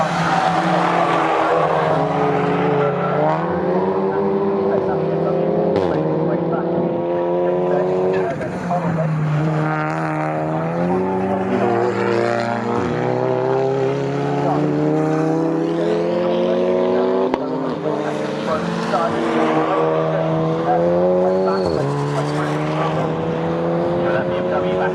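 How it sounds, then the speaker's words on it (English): A BMW race car at Snetterton during a club enduro race, engine note rising repeatedly through the gears, loud and close, with commentators talking over it. "that BMW back up to speed now."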